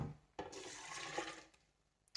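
Warm water is poured for making ceremonial cocoa, a brief, soft splashing pour lasting about a second, quiet and close, with a small knock before and after.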